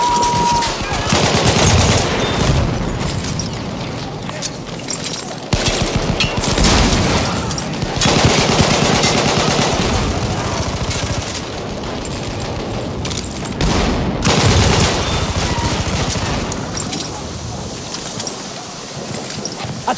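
Battlefield 1 trench combat at Fort de Vaux, with dense, continuous gunfire and machine gun bursts, booms and chaotic battle noise filling the whole stretch at steady loudness.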